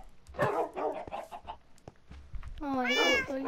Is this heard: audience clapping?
no